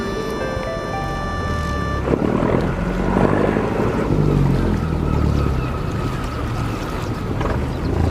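A boat comes in from an island across the water to collect children for school, its engine a steady rumble and wash that swells near mid-clip. A brief musical tone sounds at the start, and no one speaks.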